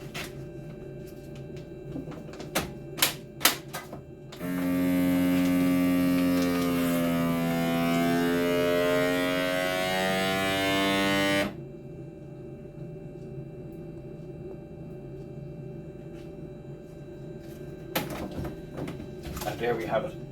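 A vacuum sealer packs venison burgers two to a bag, its motor running loud and steady for about seven seconds and then cutting off, with clicks and handling noises before and after.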